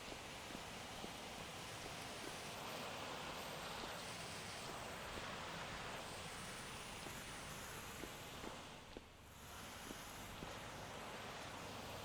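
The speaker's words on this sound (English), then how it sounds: "We've got a heck of a waterfall up there somewhere." A waterfall in Vintage Story gives a steady, broad rushing wash, faint and constant, with a brief dip near the end and no voices.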